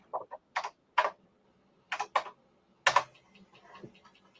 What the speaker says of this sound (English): so that clicking sound, if you can see the head moving